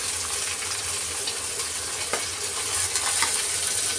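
Pavta beans, cashew pieces and peanuts sizzle steadily in hot oil in a pan for masale bhat, with a continuous hiss and a few soft clicks as the pieces drop in.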